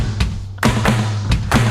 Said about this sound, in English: I hate you guys simultaneously bang the table.